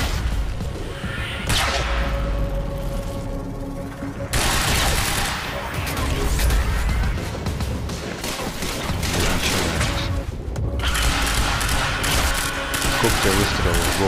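Rapid video game gunfire from Quantum Break fills the scene in dense, loud bursts of shots, broken by short pauses and booming impacts.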